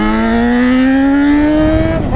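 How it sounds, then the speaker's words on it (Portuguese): A motorcycle accelerates hard and close. The engine tone climbs steadily and loudly, then breaks into rougher noise at the end. "Vamos acelerar, rapaziada, senão ela não chega."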